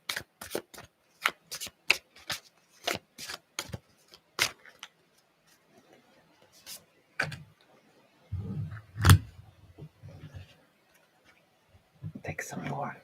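Oracle cards being shuffled in a run of quick, crisp riffling bursts and snaps, then a softer rustle and a low thump near the end, all fairly close with no talking over them.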